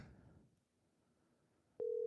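A telephone line sounds one steady electronic dial tone as a call is placed for a live show, clear and alone after a brief hush.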